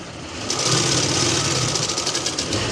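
A sewing machine stitches the shoulder of a lined jacket in a steady, fast mechanical whir that runs loud and close from start to finish.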